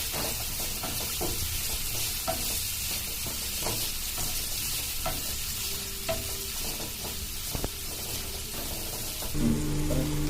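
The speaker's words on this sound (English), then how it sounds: "Now saute it well till become translucent" Onions sautéing in a pan for a banana-leaf pink perch fish fry, with steady sizzling and frequent stirring and scraping clatter running throughout, fairly close and continuous.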